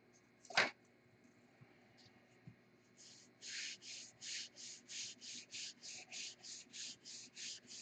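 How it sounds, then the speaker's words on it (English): Sandpaper, 320 grit, rubbed over wood to remove a line, heard as a steady series of about a dozen rhythmic close strokes after an earlier sharp knock and a few light touches. "We'll sand that off, see what happens."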